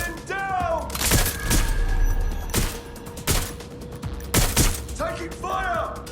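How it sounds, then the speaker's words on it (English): Gunfire in Watch Dogs: Legion rings out as loud, sharp bursts spaced a second or so apart, with shattering impacts between them and short shouted voice lines over the fight. "Taking fire!"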